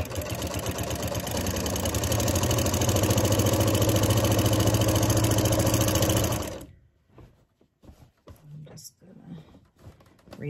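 A domestic sewing machine quilting fabric runs in a loud, steady, fast-stitching whir for about six seconds, then stops and leaves quieter scattered handling sounds.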